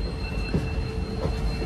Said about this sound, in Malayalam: ഇത് തിരുച്ചി രാമേശ്വരം ട്രെയിനാണ് കേട്ടോ.